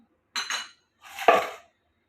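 Cinnamon, cloves, black cardamom and salt drop into a cooking pot for goat trotters paya with two short bursts of rattling, clinking spice against metal, close and isolated in silence.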